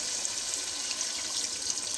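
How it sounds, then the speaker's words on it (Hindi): A glass of water is poured into a pot of chicken korma, making a steady, soft rushing splash throughout with no talk. "अब हम इसमें 1 गिलास पानी डाल देंगे"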